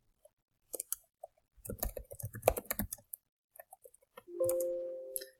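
Typing Python code on a computer keyboard: scattered clicks and rapid keystroke bursts over roughly five seconds, fairly close and moderately loud, ending with a brief steady tone.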